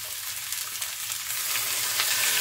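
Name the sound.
bitter gourd frying in a pan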